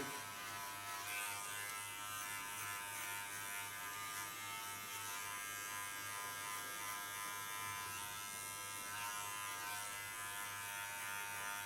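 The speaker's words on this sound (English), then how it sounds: "Leaning on the tip of my clipper, and don't force anything because I don't need to get into the skin, I just need to get the hairs off." An electric hair clipper buzzes steadily throughout a haircut, its blade tip travelling lightly over the hair with a close, continuous hum and faint fluctuations as it moves.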